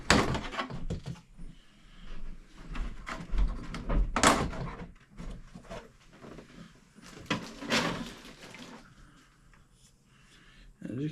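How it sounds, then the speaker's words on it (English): Plastic body shell being pulled off a Traxxas XRT Ultimate RC truck, a run of close clicks, rattles and hollow knocks from handling, with some irregular louder bumps spread across it. "Let's take the body off."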